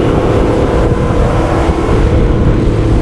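A twin-engine motorboat running on one engine while fully planed out gives a loud, steady engine drone mixed with rushing water and wind, unbroken throughout.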